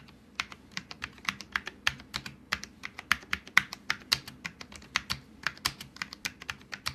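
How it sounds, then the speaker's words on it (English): Fast, steady typing on a Cooler Master SK630 low-profile mechanical keyboard with red switches, each keystroke a crisp, close, fairly quiet clack in an irregular rapid stream, with no voice. "Here's a quick typing test to give you an idea of how they sound."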